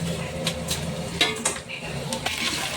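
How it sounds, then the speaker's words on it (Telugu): Chana dal and peanuts being stirred in a pan with a utensil, giving soft scraping and light clatter over a faint sizzle, with a few sharper metallic taps scattered through. "దాన్ని కూడా ఒకసారి కలుపుకోవాలి ఫ్రెండ్స్."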